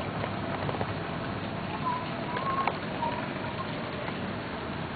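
Heavy rain pours down during a thunderstorm in a residential area, a dense, steady hiss of moderate loudness, with faint distant voices in the background.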